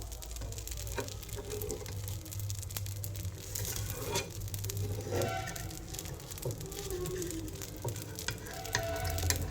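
Neer dosa cooks on a hot pan with a continuous close sizzle and light crackling spatter, a scraping stir now and then, and no talking.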